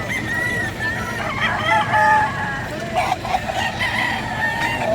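Roosters crow at a busy chicken market in Bocaue, several overlapping calls rising over a constant crowd murmur, with clucking and nearby chatter underneath.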